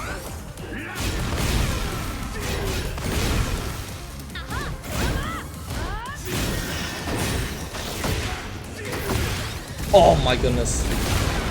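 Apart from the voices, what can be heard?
wall explosion in Tekken 8 video game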